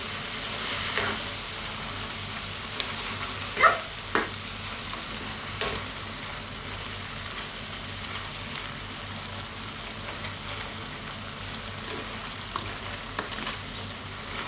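Corned beef frying with ampalaya in a pan, giving a steady, close sizzle with occasional scraping and clacking stirring strokes and no talk.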